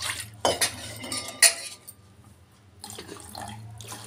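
A ragi flour mixture is poured and stirred with a spoon in a pot over a low flame, with sharp metallic clinks, a liquid splash and soft scraping, close and fairly quiet.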